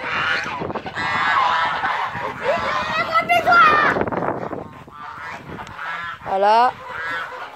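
African geese, an adult with goslings in a backyard flock, honk in loud repeated calls that rise over a person talking nearby, with a strong honk burst near the end.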